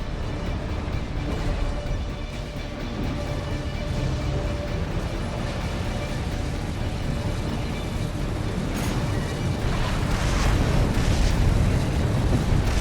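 Explosions on the ground in the video game Armored Core VI, heard as a continuous loud, rumbling wash of blasts and roaring noise that swells near the end, with no talk over it.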